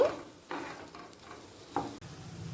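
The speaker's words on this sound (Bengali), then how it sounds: "আলুগুলো দিয়ে মশলার সাথে দু মিনিট কষিয়ে নেব" Fried potatoes being stirred and sautéed with spice masala in a pan for a Bengali bhetki fish and potato kalia, giving a soft sizzle with a few scraping stirs close by and no talking.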